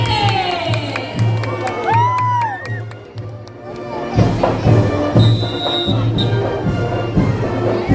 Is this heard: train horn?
no